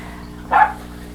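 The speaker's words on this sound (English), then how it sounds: "And excuse my dog barking," A single short dog bark sounds indoors in a quilting room, fairly loud and close, standing alone over a quiet background hum.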